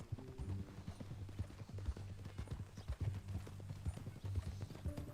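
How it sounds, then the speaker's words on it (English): Horse hooves clip-clopping in Red Dead Redemption 2, a steady rhythmic trot of close, distinct hoofbeats over a low droning background. "That new horse?"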